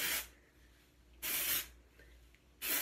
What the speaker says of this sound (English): then you spray it right around at your roots area